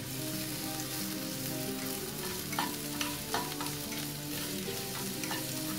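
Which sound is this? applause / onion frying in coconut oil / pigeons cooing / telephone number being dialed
onion frying in coconut oil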